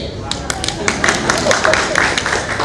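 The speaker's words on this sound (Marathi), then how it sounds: "टाळ्या नका वाजवू." An audience at a talk on democracy breaks into scattered clapping, a lively burst of claps under a background of crowd noise and a voice speaking over it.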